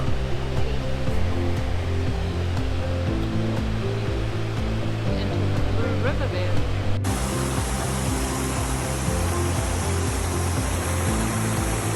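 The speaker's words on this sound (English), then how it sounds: "That's the Thunder Creek Falls." Thunder Creek Falls on the Haast Pass, a continuous loud roaring rush of falling water that holds steady throughout with no break.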